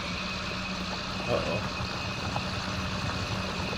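An old tractor engine idles with a steady low rumble and faint whine in a Farming Simulator game, under a man's occasional speech.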